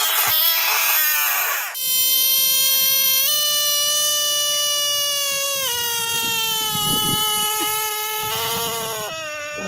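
Several frogs calling over one another, loud drawn-out wailing cries with strong harmonic tones that rise and fall, closely resembling yowling cats, nearly continuous with brief breaks between calls.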